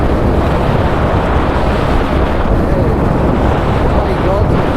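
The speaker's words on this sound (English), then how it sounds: "Oh, so windy." Strong winter wind blows outdoors in open, remote country, a constant loud roar and buffeting against the microphone with no break throughout.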